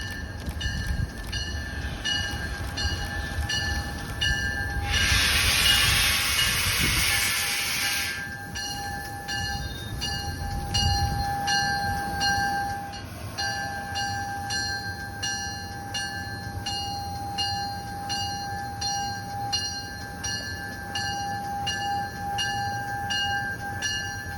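A doubleheader train passes a new station: a horn blast sounds early, then wagons rumble by under the steady ringing of a crossing bell, loud and near, with no talking.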